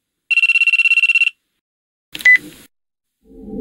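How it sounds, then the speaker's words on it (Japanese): A mobile phone rings with a rapid, trilling electronic tone lasting about a second, loud and close, followed by a short electronic chirp and then quiet. "私の携帯が音を立てました。"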